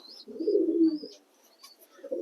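A black fantail pigeon gives a clear, low rolling coo up close, followed by a pause and the start of another coo, with faint high chirps above.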